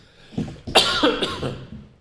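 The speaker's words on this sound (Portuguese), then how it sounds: "Desculpe a tosse, mas a gente é humano, né?" A close, harsh cough in a couple of quick bursts, fairly loud, with no speech around it.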